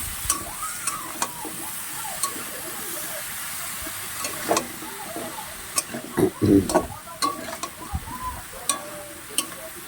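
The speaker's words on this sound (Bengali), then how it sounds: "এটাকে ভালো করে নাড়তে হবে" Vegetables stirred in a pan over raised gas heat, with pumpkin, potato and Malabar spinach among the ingredients: a steady frying hiss with scattered scraping knocks, busier near the middle, and no talk.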